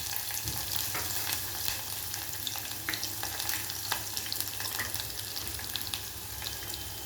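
Cumin, garlic and onion frying in oil for Andhra drumstick pappucharu, a constant crackling sizzle with scattered pops and light stirring, near and alone.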